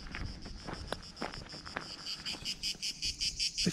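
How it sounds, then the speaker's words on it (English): Loud insects chirping outdoors in Croatia, a dense high buzzing drone that turns into rhythmic pulsing chirps, with light wind and handling noise underneath. "They've got these very loud bugs here."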